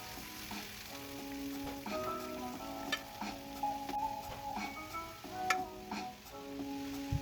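Onions and peppers sizzle in a pan, a soft continuous frying hiss broken by occasional clicks and taps of a stirring utensil against the pan, close up.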